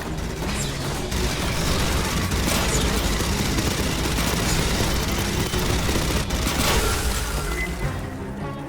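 Automated sentry gun in Aliens: Fireteam Elite firing at swarming alien bugs, a dense continuous rattle of rapid shots with occasional heavier bursts, loud and sustained before tapering off at the end.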